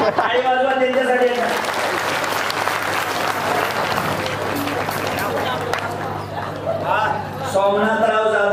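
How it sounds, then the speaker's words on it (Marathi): Audience applause at a kirtan in Khedgaon, a sustained wash of clapping from a crowd that runs loud and steady almost throughout, with a voice speaking over it at the start and end. "टाळी वाजवा त्यांच्यासाठी."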